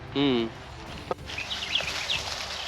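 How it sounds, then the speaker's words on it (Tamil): Small birds chirp in a coastal village in Sri Lanka, giving brief, thin high calls that sit behind a voice and soft outdoor background noise. "நல்ல குருவியல் சத்தம் எல்லாம் அங்கே இருக்குது."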